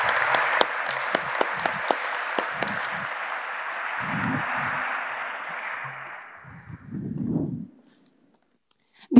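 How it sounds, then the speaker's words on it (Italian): Audience applause at the public presentation of the new Porta Elisa stadium, a dense round of many people clapping with a few sharp nearby claps, slowly thinning and fading out over several seconds, with low murmuring voices underneath. "Direi un altro applauso."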